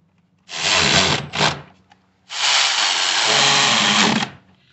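Power tool driving screws into the rear of a 2011 Nissan Frontier 4.0 during a spark plug change, heard as two loud close whirring bursts, a short one followed by a longer steady run of about two seconds, with no talking.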